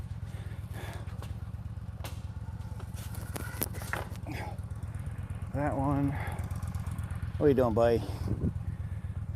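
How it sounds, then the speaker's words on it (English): A motorcycle engine idles steadily in the background with a low, rapid, pulsing throb that persists throughout, while a person talks briefly nearby and louder voice bursts rise over it. "motorcycle running because I haven't ran it in a while."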